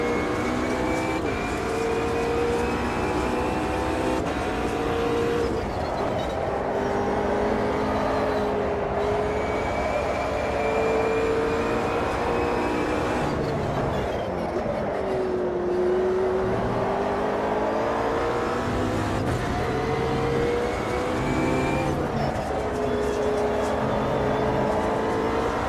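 Racing cars in the AMS2 simulator at Kyalami, with an opponent's engine droning close behind through the slipstream, a loud continuous wail whose pitch rises and falls with gear changes and throttle.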